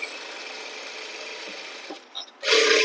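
A sewing machine stitches a high-neck blouse in a steady, continuous run that stops briefly near the end before a louder, brighter burst of stitching returns.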